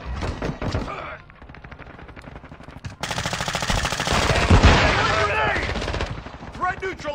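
Rapid bursts of automatic gunfire and single shots in Call of Duty: Warzone 2.0, loud and close, over game music and noise, with shouted in-game voice callouts.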